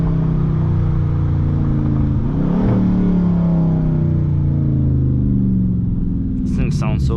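Engine of a 2021 Dodge Charger Scat Pack Widebody, loud and close, its drone dropping in pitch as it downshifts around the midpoint, then climbing again with a brief sharp burst near the end.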